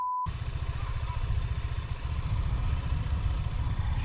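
A motorcycle engine idles with a steady low, pulsing rumble, close and constant throughout.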